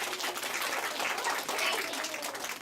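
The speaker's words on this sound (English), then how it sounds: "If you like that story," Faint, continuous clapping from a classroom audience after a story is read aloud, a soft even patter lasting a couple of seconds with no voices over it.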